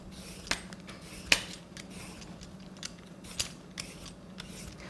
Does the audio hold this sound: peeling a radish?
yes